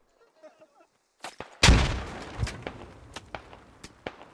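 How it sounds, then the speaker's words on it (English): A frag grenade goes off in the military shooter Squad, one sharp heavy blast after faint rustling, followed by scattered distant gunshots and thuds. "Grenade coming in."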